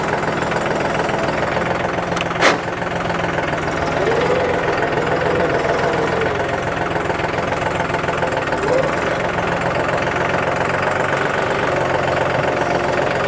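A John Deere 5210 Gear Pro 4WD 50 hp tractor runs in first gear while turning without braking or throttle, giving a steady close diesel rumble with a faint knocking texture and one brief sharp click near the start.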